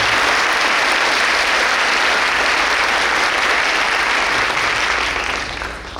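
A large crowd at a high school entrance ceremony applauds the guests, with loud, dense, sustained clapping throughout that eases slightly at the very end.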